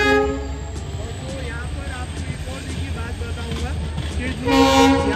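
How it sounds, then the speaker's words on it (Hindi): A real train passes beside the train-themed Trackside Tadka restaurant in Rajkot. A steady rumble of rolling wagons runs throughout, and a horn blast rises toward the end. Someone talks over the train. "उसी के बगल में असली ट्रेन भी भाई जा रही है, देख लीजिए"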